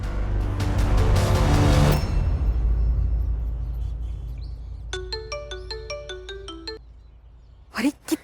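A phone ringtone plays a bright, repeating electronic melody of quick chiming notes for about two seconds, preceded by loud clattering noise and followed by a short rustle.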